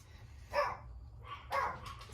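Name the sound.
dogs barking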